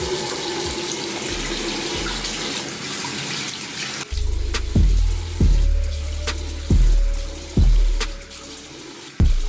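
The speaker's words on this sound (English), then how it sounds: "Wash the face off right now" Water runs from a bathroom tap into a sink while a face is rinsed as part of a skincare routine, giving a steady rushing flow with several louder splashing surges as water is scooped and splashed, close by.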